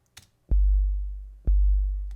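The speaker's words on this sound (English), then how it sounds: "Almost sounds like an 808." Long, booming sine bass from an FM8 synth, 808-like, played as two sustained notes that slowly decay, with a faint blip just before the first.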